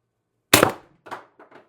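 An MR TR50 Torpedo air rifle charged with 800psi HPA fires one sharp, loud shot that decays quickly, followed by a couple of fainter knocks and clatters.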